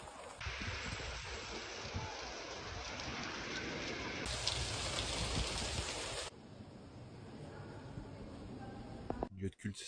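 Heavy rain pours during a late-August thunderstorm in Trieste, a dense, close hiss of drops on surfaces that eases and thins toward the end, with a brief knock at the very end.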